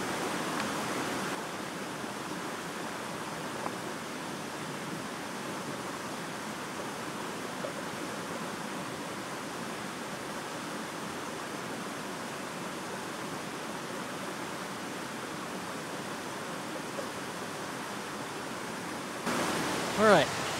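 A river flowing steadily along an old abandoned railway in the backcountry, its broad continuous rush of water holding even and fairly close throughout, with a brief faint disturbance near the end.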